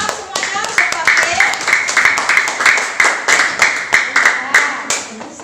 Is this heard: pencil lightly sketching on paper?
no